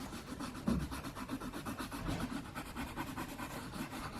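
A white Arteza colored pencil burnishes over a colored pencil drawing, making a steady, soft rubbing and scratching with quick back-and-forth strokes, faint and close with no voices.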